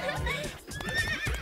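A horse in an animated fairy-tale story neighs loudly, a long wavering whinny close by, with faint hoof clops underneath.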